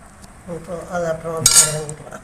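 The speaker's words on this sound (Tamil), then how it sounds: "இப்போ இந்த கீரையை நம்ம கடைய போகிறோம்." Drumstick leaves (keerai) are churned in a pot, giving a brief run of metallic clinks and ringing scrapes against the vessel, close and moderately loud, with one sharper knock near the end.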